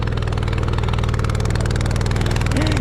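A rented motorbike climbs a steep uphill road with its engine running hard in a steady, loud, throbbing drone that stays close and even throughout, alone without talk.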